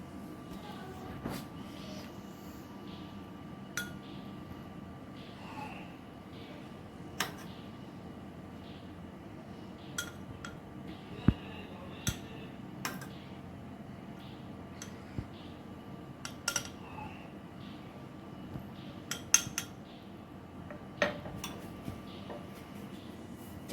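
A metal spoon clinks faintly and sporadically against a glass while spreading melted chocolate inside it, with sharp isolated taps over a low steady room hum.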